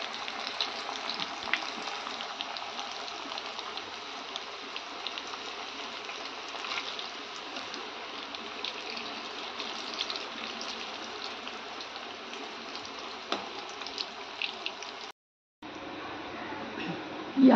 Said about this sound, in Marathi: याप्रमाणे वड्या सगळ्या तळून घ्यायच्या आहेत.